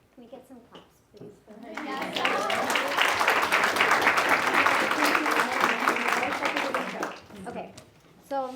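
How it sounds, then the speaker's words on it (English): An audience at a teach-in claps in a steady wash of applause lasting several seconds, with talking before and after it. "Can we get some claps, please?"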